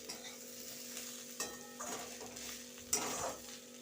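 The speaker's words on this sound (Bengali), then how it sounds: "এরকম গ্যাস কমিয়ে আস্তে আস্তে করে ভাজি" Food fries slowly in a little oil over a low gas flame, a faint, quiet sizzle punctuated by a few spatula scrapes and clinks against the pan, with a low steady hum underneath.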